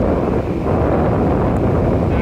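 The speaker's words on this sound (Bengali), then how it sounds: "ঠান্ডা বাতাস বইছে" Cold wind blows hard across the beach at Cox's Bazar, a loud, constant low roar buffeting the microphone, with no speech over it.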